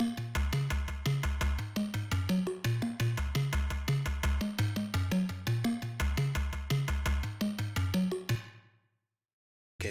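Distorted, conga-like percussive synth hits panned hard left and right bounce in a fast, steady rhythm over bass, then stop abruptly near the end, leaving silence.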